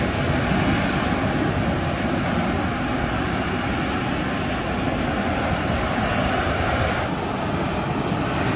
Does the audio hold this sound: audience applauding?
no